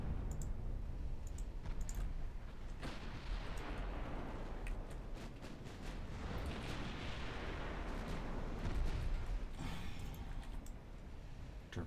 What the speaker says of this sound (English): Torpedo hits.